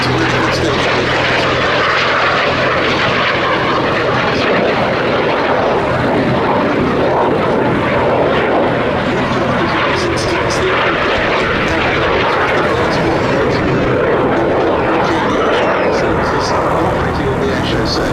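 A pair of BAC Strikemaster jet aircraft performing a flying display at the Duxford summer air show, a loud, continuous engine roar that swells slightly as the jets pass and fills the whole stretch.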